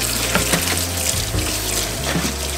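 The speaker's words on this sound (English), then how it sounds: "I'm gonna turn it to hot water." Hot water running from a tap in an apartment during a deep clean, a steady close gushing stream splashing continuously throughout without talking.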